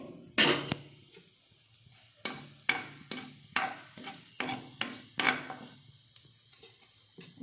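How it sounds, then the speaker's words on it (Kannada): Cumin seeds crackle in a hot pan for jeera rice; a faint sizzle runs under repeated sharp clinks and scrapes of a spoon striking the pan in a loose rhythm. "ಈಗ ಅದರೊಳಗೆ ಫಸ್ಟ್ ಜೀರಿಗೆ ಹಾಕ್ಕೋಬೇಕ್ರಿ"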